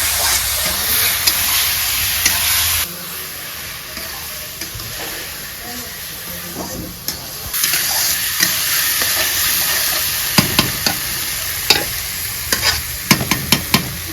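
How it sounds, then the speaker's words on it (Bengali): Bengali aloo fish curry masala is stirred with coriander leaves in a hot pan, a loud steady sizzle and hiss with repeated scraping and clinking of the spatula, close up, with a voice briefly heard. "এই ধনে পাতা দিয়া ভালো মতন কষাই নেবো"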